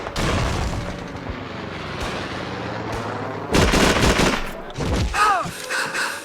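In the video game Call of Duty 3, a grenade explosion booms amid bursts of gunfire, sharp cracks and rumbling blasts, and overlapping game voices can be heard.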